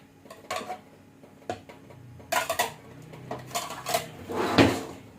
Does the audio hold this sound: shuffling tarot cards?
no